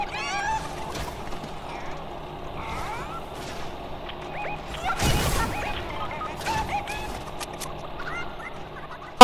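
A chicken in the video game Fortnite clucks and squawks in scattered bursts through a busy mix of game sounds, with a loud crash near the middle and a sharp burst at the end.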